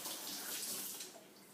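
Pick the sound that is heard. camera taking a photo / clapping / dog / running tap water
running tap water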